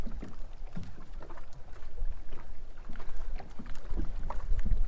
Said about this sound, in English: I'm just over here complaining to myself, whining about the wind.